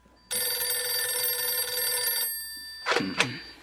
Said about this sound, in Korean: 그때 전화벨이 울렸다.